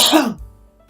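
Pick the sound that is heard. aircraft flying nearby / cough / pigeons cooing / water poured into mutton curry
cough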